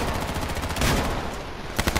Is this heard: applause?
no